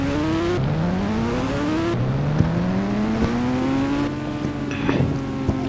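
In the mobile game Indian Bike Driving 3D, a motorbike engine drones with steady rising and falling revs and occasional shifts in pitch, loud and close with no talk.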